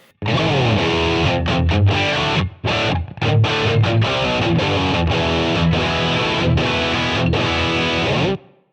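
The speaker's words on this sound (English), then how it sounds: "chuck a bit of room reverb on there" A distorted electric guitar plays sustained chords through effects pedals with a roomy reverb tail, loud and continuous, breaking briefly near the start.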